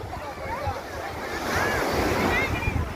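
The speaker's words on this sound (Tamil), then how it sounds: "தண்ணி நல்லா அலைய அடிக்குது" Ocean waves roll and break steadily on Karaikal beach in the evening, a continuous wash of surf swelling louder midway, mixed with heavy wind buffeting the microphone.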